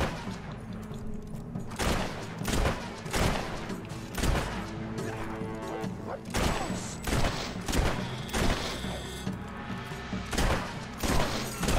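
Gunfire in the video game Fable 3: a long run of loud, sharp shots and booming blasts, some in quick bursts, with crashes in between, close and dominant throughout.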